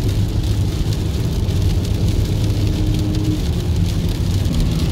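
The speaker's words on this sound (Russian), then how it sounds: "И еще дождь идет." Steady rain pours down during a flood in Germany, a dense continuous hiss of drops on wet surfaces, fairly loud and unbroken, with no talking.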